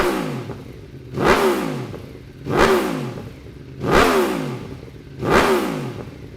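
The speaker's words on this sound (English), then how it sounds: "If you're chasing the MotoGP sound and super bike looks, this may be exactly the pipe you're looking for" Aprilia RSV4 1100 Factory superbike fitted with an Arrow Pista slip-on exhaust, revved four times in a steady rhythm; each loud, sharp blip rises and falls back to a rumbling idle, with no talking.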